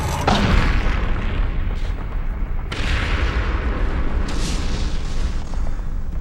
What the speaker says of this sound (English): North Korean Communist forces begin an intense barrage of artillery and mortar fire